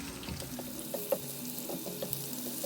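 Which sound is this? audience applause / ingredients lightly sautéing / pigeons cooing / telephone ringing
ingredients lightly sautéing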